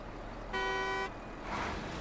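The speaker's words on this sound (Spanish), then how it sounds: "A ver, la bocina de este no la he escuchado." In the video game SnowRunner, a truck horn gives a single short, steady honk of about half a second, moderately loud against a low idling engine and quiet background.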